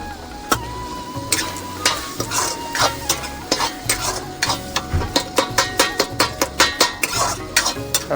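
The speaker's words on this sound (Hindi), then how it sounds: "कम से कम 10 से 15 मिनट अच्छा से तलबो ताकि मसाला तेल छोड़ना चालू कर दे।" A spoon stirs and scrapes spices frying in oil for a semi matar curry of flat beans and peas, with sharp rhythmic clacks against the pan that grow faster and regular over a steady sizzle, close and loud.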